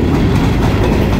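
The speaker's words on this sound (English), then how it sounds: "Only train I'm getting today." A long freight train of boxcars rolls past at close range, a loud continuous rumble and roar with rhythmic wheel clatter, no voices.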